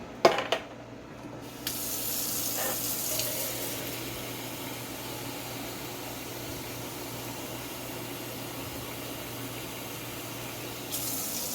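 Tap water gushes steadily into a can at a kitchen sink, a continuous hissing spray that begins with a few clanks and runs without break for several seconds.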